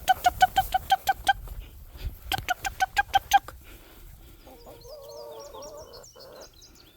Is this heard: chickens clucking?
yes